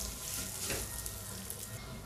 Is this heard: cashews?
yes